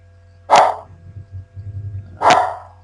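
A dog gives two loud, sharp barks about two seconds apart, close by. Quiet growly noises and low hum fill the gap between them, with no speech.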